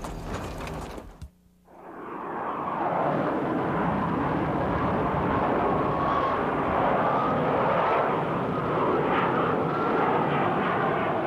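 After a brief pause, the engines of an F-14 Tomcat fighter jet swell into a loud, sustained roar that holds steady and close for roughly nine seconds.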